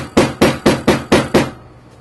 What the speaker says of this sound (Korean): 망치로 한번 두들겨주고요